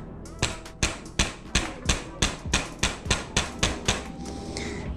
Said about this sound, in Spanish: Aquí voy a ocupar un martillo de goma